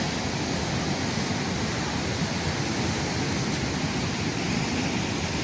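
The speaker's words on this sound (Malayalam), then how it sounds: "തിരുവനന്തപുരം പൊഴിയൂരിൽ കടലാക്രമണം രൂക്ഷം." Heavy sea waves surge onto the eroded coast at Pozhiyoor, Thiruvananthapuram, during a severe sea incursion, a dense, continuous roaring wash of surf with no break, steady and enveloping.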